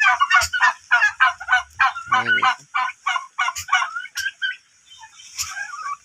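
A turkey cock gobbles in a rapid, rhythmic string of loud, close bursts, then a few scattered calls trailing off.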